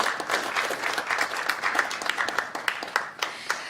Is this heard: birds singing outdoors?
no